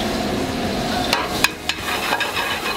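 Olive oil and butter with garlic in a very hot pan give a steady, close hiss, broken by a few sharp clicks and taps of a utensil near the end.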